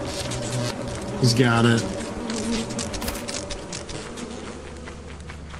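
Bees buzz in the video game Lethal Company as a steady, fairly close insect drone under a player's short spoken remark and other game noises.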